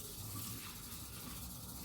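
Tap water runs steadily over green beans being washed in a sink, a soft, even gush with no talking.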